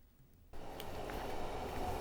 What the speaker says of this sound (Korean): KTX 열차가 1시간도 안 돼 원주역 승강장으로 들어옵니다